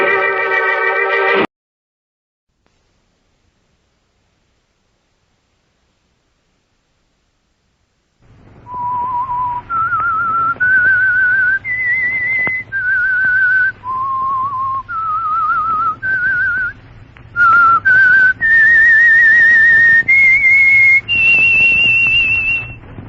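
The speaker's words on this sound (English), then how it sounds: "that whistle is your signal for the signal oil program, The Whistler." A clear, loud whistled theme tune from an old-time radio mystery show: a run of sustained, wavering melodic notes climbing and falling, played alone after a short burst of tone and a long silence.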